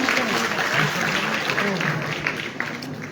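An audience at a children's art competition prize distribution ceremony claps, dense steady applause filling the hall and slowly fading toward the end.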